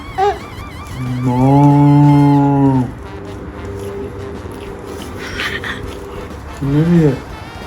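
A cow being fed moos loudly in one long drawn-out call, followed by a shorter moo near the end, while people talk nearby in between.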